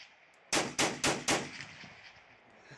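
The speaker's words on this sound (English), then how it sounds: "We have a free gunshot sound effect that you can download" Four sharp gunshots recorded at a gun range fire in quick, evenly spaced succession, each loud crack followed by a short decaying echo that trails off into quiet.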